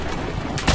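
A single loud sniper gunshot from Assassin's Creed Brotherhood cracks near the end of a short stretch of dense, constant background game noise.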